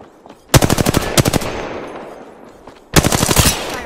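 Automatic weapon fire in a battle royale video game: two rapid bursts of loud shots close together, then a pause and a third sustained burst, with no talking.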